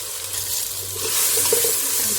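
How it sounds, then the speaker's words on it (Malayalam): Dishes being rinsed under a running kitchen tap during home cooking, a steady rushing hiss of water that swells slightly louder midway, with no voices. "ഈ എടുത്ത പാത്രങ്ങളൊക്കെ ഒന്ന് കഴുകിയെടുക്കട്ടെ"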